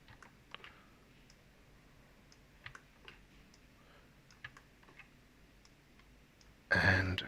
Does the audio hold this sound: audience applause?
no